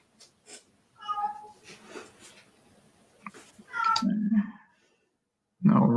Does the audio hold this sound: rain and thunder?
no